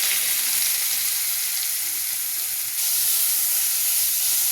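Onion, ginger and garlic frying in hot oil for an egg curry, a steady bright sizzle and hiss close up, continuous throughout with no talking.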